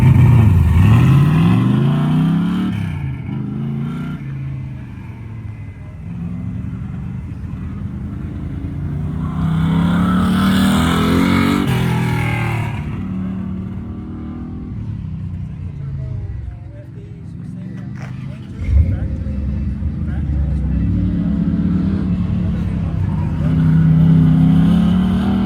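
Car driving an autocross lap on a wet track, its engine loud and close throughout, revving up and down with steady tire and road noise under a faint voice.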